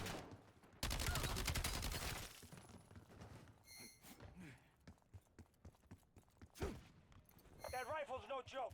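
Rifle fire in Call of Duty: Black Ops 7, a sharp rapid burst at the start followed by scattered impacts and clatter, with in-game voices speaking amid the action.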